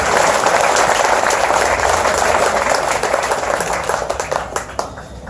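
A crowd at a Hawaii Waterman Hall of Fame induction gives loud, sustained applause for Barbara Holmes and Nainoa Thompson, thinning toward the end into scattered individual claps.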